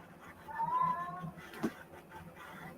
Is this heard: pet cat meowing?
yes